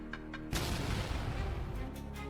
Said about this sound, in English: it resulted in a powerful explosion.